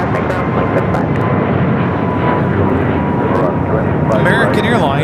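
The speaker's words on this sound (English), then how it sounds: "American Airlines 1103 taking off to Miami, Florida on the A321 Neo." An American Airlines Airbus A321neo takes off at Los Angeles International Airport, a loud, steady, broadband jet roar that fills the whole stretch, with faint radio voices underneath.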